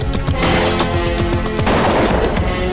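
Rapid bursts of police gunfire, loud and dense, with sharp cracks in quick succession over a constant roar of noise.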